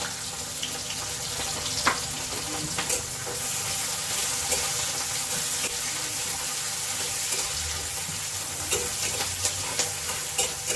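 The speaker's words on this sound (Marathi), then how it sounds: "यामध्ये कढीपत्ता सुद्धा टाकून घेऊया आणि कांदा आणि हिरवी मिरची सुद्धा टाकून घेऊया त्यानंतर थोडं जिरे टाकून घेऊया" Curry leaves, onion, green chili and cumin fry in a pan, a steady close sizzle with faint stirring scrapes and occasional small clinks over continuous crackling.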